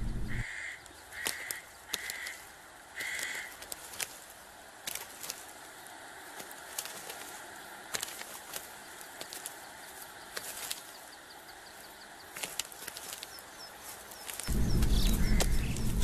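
Nutcrackers feeding on pine seeds in mountain forest give harsh repeated calls, with bursts of wing flapping near the end; no voices.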